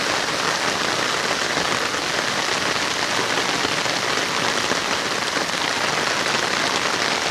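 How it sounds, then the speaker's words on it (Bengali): Heavy rain falling in a steady dense hiss of drops on surfaces, loud and unbroken throughout with no voices. "পানি আর পানি বৃষ্টি পড়তেছে"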